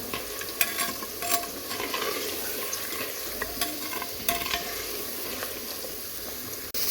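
Tomato masala fries and sizzles steadily in a pan as it is stirred for a karela dal recipe, with scraping spoon clicks against the pan throughout and no talking.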